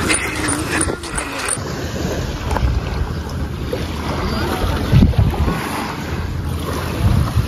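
Boat engines hum over wind buffeting the microphone, with water and surf noise in a steady outdoor wash on a beach in Boracay.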